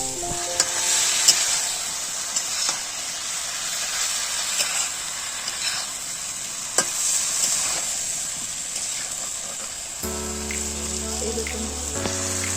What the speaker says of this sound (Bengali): এইরকম মশলার সঙ্গে আমি খুব ভালোভাবে এঁচোড়টা কষিয়ে নিলাম।